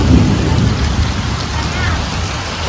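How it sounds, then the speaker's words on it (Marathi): Heavy rain pours steadily in a Konkan village, a dense, loud wash of sound with low thunder rumbling beneath it. "जोरदार पाऊस लागतो."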